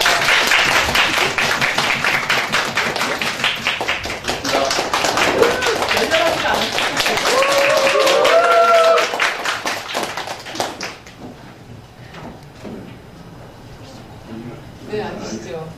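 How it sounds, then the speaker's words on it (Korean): Warm audience applause greets a guest at a political talk concert, a sustained wash of clapping with voices mixed in that drops away, leaving quieter talk afterward. "천 비서관님 앞으로 모실 때 열렬한 박수로 환영하도록 하겠습니다."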